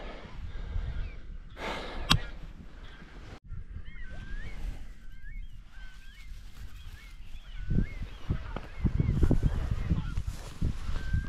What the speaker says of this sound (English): Goose over there just took off